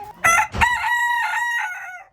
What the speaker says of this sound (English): You can see there's a lot of chickens here.